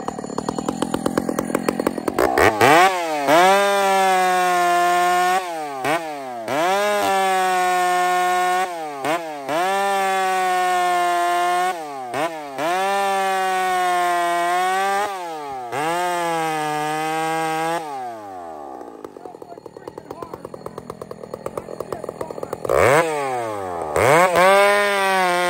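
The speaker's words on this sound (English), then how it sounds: "But this is ground chain, full house, 32 inch in elm." A chainsaw with a 32 inch bar and ground chain cuts into elm. The engine revs up and bogs down repeatedly in long, loud, close bursts, then idles and winds down near the end.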